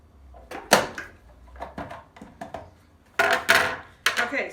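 Onions and vegetables are chopped with a Vidalia Chop Wizard Pro in a home kitchen, giving repeated sharp plastic clacks and thunks at an uneven pace, up close and loud, with a heavier burst of clatter near the end.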